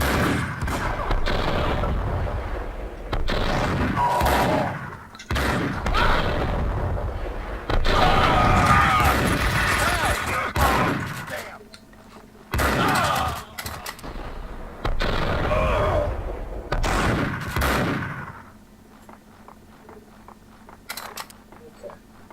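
Heavy gunfire erupts in Max Payne 2 on Xbox: loud bursts and volleys with blasts for about eighteen seconds, then a quieter stretch with sparse sharp hits.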